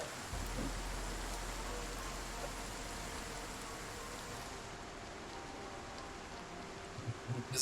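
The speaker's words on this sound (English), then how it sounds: "If we start getting wet from the rain, we'll probably have to stop doing this." Rain falls steadily in the survival video game Project Zomboid, a soft continuous hiss of drops held at low level with a faint low rumble beneath.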